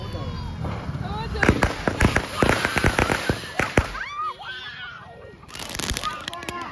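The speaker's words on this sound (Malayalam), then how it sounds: "പൊട്ടിക്കാൻ പോവാണല്ലോ നമുക്ക് കിട്ടി പടക്കം" Diwali firecrackers go off in quick, irregular sharp pops and crackles at a festive gathering, with people's voices mixed in around the bursts.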